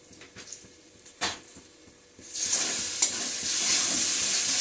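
Spice paste with salt and turmeric frying in oil in a pan, a spoon stirring and scraping first, then a loud steady sizzle that swells and holds.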